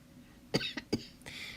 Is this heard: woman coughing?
yes